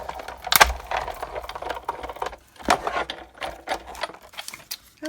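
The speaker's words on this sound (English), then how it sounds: "here's the Big Shot, magnetic platform and a cutting pad, and then we'll place this up here and cut it out" Big Shot die-cutting machine with a magnetic platform and cutting pad cutting a stitched-edge circle, close clicking and ratcheting mechanical rattles as the handle is cranked, with a couple of sharper clunks.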